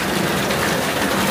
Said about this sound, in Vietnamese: Ôi trời, mưa lắm quý vị ạ.